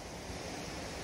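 Shankar waterfall in Jumla, a tall cascade, gives a steady, even roar of falling water, heard faintly from a distance with no voices.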